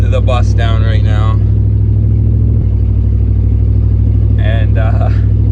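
A Chevy Avalanche tow rig with a loud custom exhaust drones with a deep, steady engine rumble while driving, heard from inside the cab, with someone talking briefly at the start and end.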